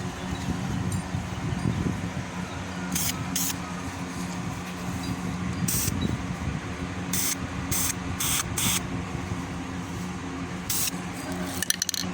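Rust barrier coating sprayed onto a car roof in short separate bursts, several hissing blasts spread across the stretch over steady background noise, with no voices.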